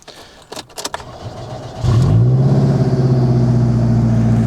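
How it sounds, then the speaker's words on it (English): In a video game, a few light clicks come first, then a car engine catches and settles into a steady, loud, rumbling idle that holds to the end. "Time to start the engine."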